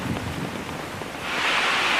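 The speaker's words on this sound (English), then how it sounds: "It's still raining." Heavy rain pours down in a steady, dense hiss that swells louder toward the end, with a broad rushing wash and no voices.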